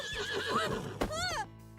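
A horse in The Sims 4 gives one loud, close whinny with a rising then wavering pitch, ending in a short snort, over faint background sound.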